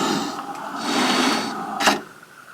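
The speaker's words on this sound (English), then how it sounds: "Now it's going to scan the opening from where I peeled out this little piece." An Explore 5 cutting machine hums and whirs mechanically as it scans the mat during calibration, with the carriage motor rising and falling and a short sharp burst near the end before it quiets.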